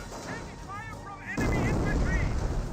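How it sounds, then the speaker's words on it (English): Mortar fire in Company of Heroes, a heavy booming impact that swells into a sustained rumbling blast partway through, with voices talking over it. "Incendiary mortar does connect the Rifleman squad, and a regular mortar does as well"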